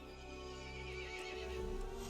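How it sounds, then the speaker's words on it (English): A horse neighs loudly in the video game Resident Evil Village, an angry whinny over a steady, dense game soundscape with faint hoof clatter, no talk. "The horse grew angry and summoned the other monsters."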